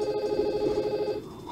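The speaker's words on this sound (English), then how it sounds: "one moment, I'm getting a phone call." A telephone rings with an incoming call, a steady electronic tone that sounds alone with no talking and fades toward the end.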